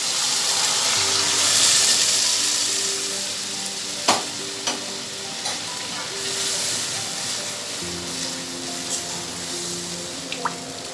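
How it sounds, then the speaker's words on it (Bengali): Spices frying in oil in a pan while being stirred for a gourd and mixed lentil dal; steady close sizzling and hissing with occasional sharp clinks of the spoon against the pot. "একটু এটা নাড়াচাড়া করব 1 মিনিট মতো।"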